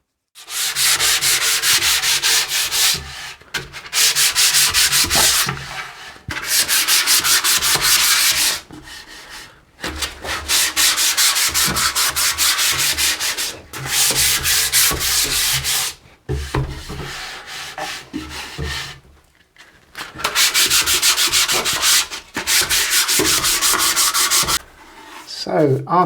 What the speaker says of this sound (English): a very light sanding, that really did come up smooth